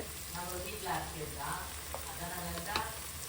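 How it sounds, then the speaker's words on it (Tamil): Onions sauté with ginger garlic paste in a pan, giving a steady, close sizzle with faint scraping stirs and a few soft clinks, while a voice talks quietly underneath. "இஞ்சி பூண்டு போட்டு வெங்காயம் நல்லா வதங்கிடுச்சு"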